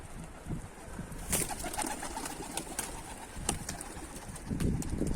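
Pet pigeons coo close by, with repeated low throaty calls, some brief sharp clicks and a rustle of movement over a steady background.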